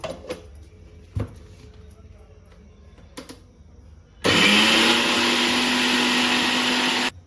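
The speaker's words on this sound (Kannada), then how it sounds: "ತೆಂಗಿನ ತುರಿನ ಮಿಕ್ಸರ್ನಲ್ಲಿ ಹಾಕ್ಕೊಳ್ಳಿ" A kitchen mixer grinder starts up and runs loudly, grinding grated coconut with a little water into a fine paste; after a few quiet handling knocks, a steady high whirring roar continues for about three seconds, then stops.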